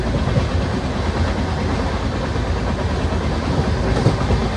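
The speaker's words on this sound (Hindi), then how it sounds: "हमारी ट्रेन जो है मथुरा जंक्शन से आगे निकल चुकी है" Riding aboard the Mumbai–Delhi YUVA AC Superfast Express past Mathura Junction, a steady loud rumble of wheels on rails fills the carriage with faint rhythmic clickety-clack and no talking.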